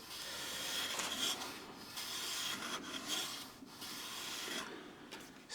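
Hand plane shaving wood during blade squaring and adjustment, a continuous rasping, rubbing scrape that runs steadily and close with brief pauses between strokes.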